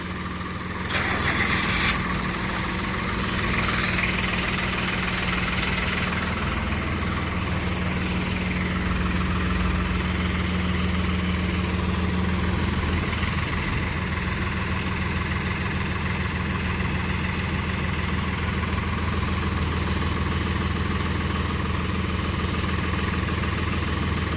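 A steady, low engine rumble idles continuously, with a brief sharper burst near the start, close by and without talk.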